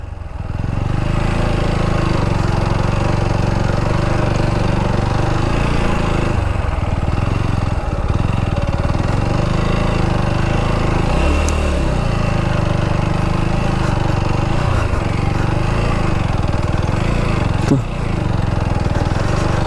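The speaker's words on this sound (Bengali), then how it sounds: "এই বাইকের বালির রাস্তায় আসলে দুইজনে চালানো সম্ভব না" A motorcycle engine runs on a sandy beach road near Cox's Bazar, a loud, close, steady drone that holds at an even pitch for the whole stretch with only slight dips.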